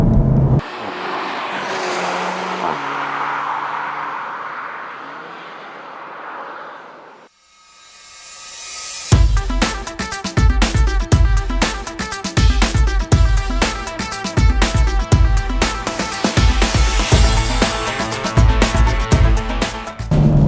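A car engine drones and fades, then a high-revving Seat Leon Cupra roars close by on the Castelloli race track in Catalonia, the engine screaming steadily through gear changes at full volume.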